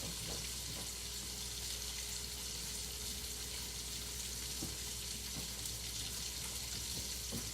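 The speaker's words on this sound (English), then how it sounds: "My bacon sizzling, y'all." Steady crackling sizzle of bacon frying in a pan, continuous and close, with a faint background hum and occasional small pops.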